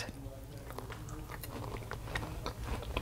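Someone bites into strawberry shortcake layered with biscuit, strawberries and whipped cream: soft close-up bites and moist chewing sounds, quiet and steady throughout.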